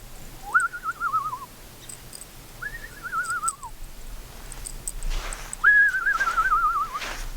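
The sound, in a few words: person imitating a loon call by whistling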